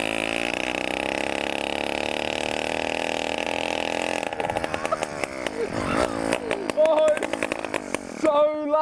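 A loud, raspy 100cc petrol engine on a mountain bike, its exhaust snapped off, drones steadily, then the note breaks into uneven clattering bursts with a voice speaking over it.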